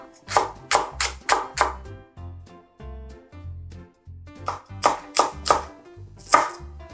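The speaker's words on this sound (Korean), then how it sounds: "대파 5분의 1쪽 썰어주세요" Knife chopping green onion on a cutting board: quick bursts of sharp chops in short rhythmic runs, close and clear, over steady background music.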